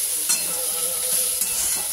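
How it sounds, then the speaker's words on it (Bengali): Spices with salt, sugar, turmeric and cumin powder stirred and fried in a pan for a parotta meal, a steady close hiss of sizzling with a few stirring scrapes, no talking. "একটুখানি কষে নিই, একটু জল দেবো সামান্য।"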